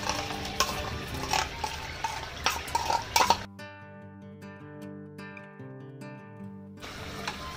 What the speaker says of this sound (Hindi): तो अच्छी तरह पहले इसको हम मिक्स कर लेंगे